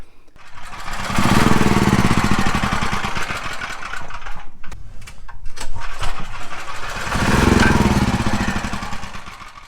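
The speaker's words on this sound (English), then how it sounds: "I can't get the large generator to stay running, so it's time to swap it out for the smaller one." A large generator's engine chugs loudly and close by in rhythmic swells, surging and sagging as if struggling to stay running near a CAT 304CR excavator.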